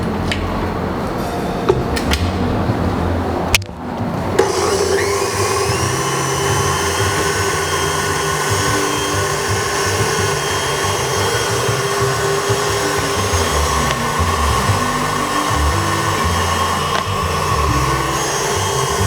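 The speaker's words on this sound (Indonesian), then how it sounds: "kalian bisa kocok krimnya pakai" Electric hand mixer whirring steadily as it whips cream for a no-bake boba cheesecake, a loud continuous motor drone with a brief pause and restart early on, no talking.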